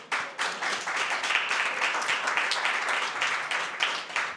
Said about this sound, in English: let's give MIC a round of applause again